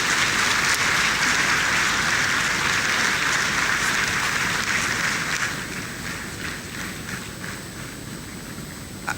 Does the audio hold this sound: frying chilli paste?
no